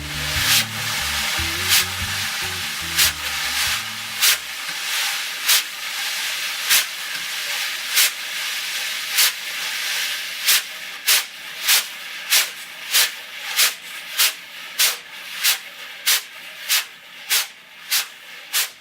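Wire brushes on a snare drum played with a wax-on circular motion, both hands sweeping inward, making a steady swishing hiss punctuated by regular sharp taps, with a low drone fading out in the first few seconds.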